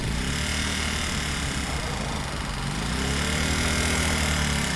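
A Honda CM200T motorcycle engine runs steadily with the throttle held open, a continuous, fairly loud drone with low harmonic bands that stays level throughout without clear revving peaks.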